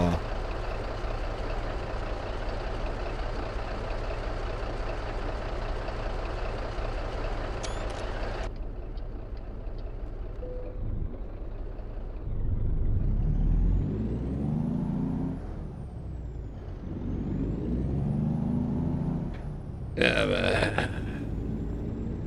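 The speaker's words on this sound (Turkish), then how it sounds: "motor sesi falan güzel yalnız arabanın" A heavy truck engine in Euro Truck Simulator 2 rumbles steadily, with a hiss of air brakes and shifting engine tones as it revs and slows.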